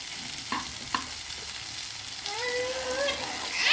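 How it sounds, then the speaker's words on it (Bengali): Vegetarian chow mein being stir-fried with vegetables in a pan over a raised gas flame, a soft steady sizzle with a few light spatula knocks, growing a little louder toward the end. "এরকমভাবে নাড়তে হবে যাতে সমস্ত কিছুটা চাউমিনটা ভাজা হয়"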